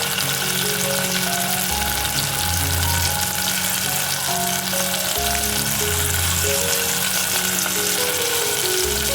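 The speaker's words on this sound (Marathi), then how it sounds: "कांदा छान फ्राय झाल्याच्या नंतर आपल्याला घालून घ्यायचा आहे टोमॅटो." Chopped tomato added to fried onions in a pan with whole spices, producing a loud, unbroken sizzle that runs steadily throughout, with a low tonal hum underneath.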